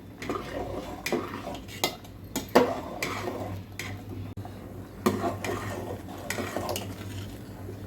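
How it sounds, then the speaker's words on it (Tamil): A spoon scrapes and clinks against a metal pot in irregular strokes as rice is stirred into boiling water for ragi koozh, over a low steady hum. "நான் இந்த அரிசியை போட்டு கலந்துக்கலாம்"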